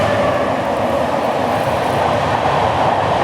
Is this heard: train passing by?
yes